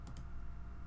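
Two quick, faint clicks of a computer mouse selecting PDF files in close succession, close by in a quiet room.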